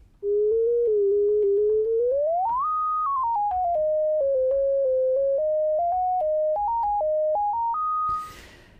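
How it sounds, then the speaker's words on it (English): A pure, whistling tone from a Behringer 2600 synthesizer's self-oscillating filter steps through a series of held pitches, gliding up then hopping between notes, ending with a short burst of hiss. "then the VCF is playing some notes"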